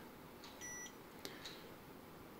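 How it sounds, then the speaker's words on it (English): A pure sine inverter gives a faint, short electronic beep as a low-voltage warning, thin and quiet over a steady background hiss, followed by a couple of tiny ticks. "it just makes a silent beep"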